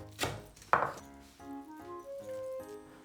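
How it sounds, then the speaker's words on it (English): A knife chops napa cabbage on a cutting board, giving two sharp, close thuds, followed by quieter handling noise and faint tonal sounds. "cut off the stem here first, and then cut them up in bite-sized pieces"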